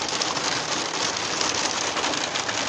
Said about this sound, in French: au bout de 3 semaines, il s'est quand même mis à pleuvoir.